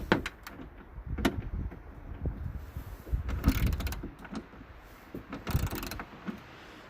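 Ratchet turning a bolt on a 7.3, worked with a forearm, gives uneven close clicking and grinding bursts with rustling and clunks between them, no talking.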